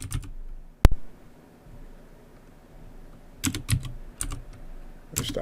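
Short bursts of keyboard typing, a few quick key clicks at the start, one sharp tap, then a flurry of keystrokes near the end.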